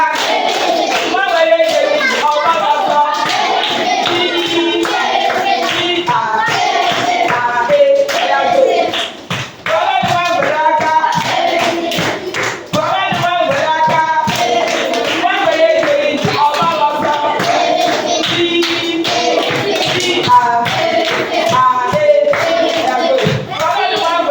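Children clap their hands in a steady rhythm to a Yoruba nursery rhyme at a summer language school, the claps running continuously under loud group singing and chanting.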